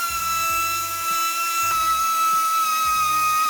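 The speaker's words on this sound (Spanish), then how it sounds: "Para repasar la zona cortada, uso o bien una lija o en este caso una piedra." A grinding stone smooths the freshly cut edge of a plastic bumper on a 2018-2020 Range Rover Evoque, a steady high-pitched rotary whine broken by repeated low scraping bursts as the stone bites the plastic.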